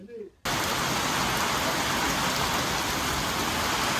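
Heavy storm rain pours steadily and loudly as a dense, unbroken hiss that bursts in after a brief quiet moment with a faint voice.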